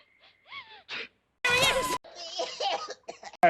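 A harsh, raspy burst of coughing from an actor in a movie scene, close and loud, surrounded by short gasps and speech.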